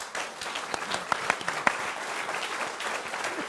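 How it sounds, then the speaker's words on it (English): Audience applause at a live broadcast from Oi Marae, a brief spread of clapping with a few sharper individual claps standing out, moderately loud and steady throughout. "You're clapping for yourself there."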